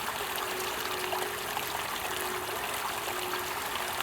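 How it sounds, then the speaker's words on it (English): Small woodland creek on public land flowing steadily, a faint continuous wash and trickle of water with no voices, even and unbroken throughout. "here's the little creek"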